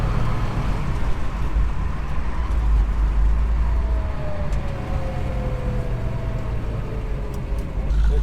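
A classic R Code Ford Mustang V8 idles steadily nearby, a low, even rumble with a faint higher whine sweeping through partway.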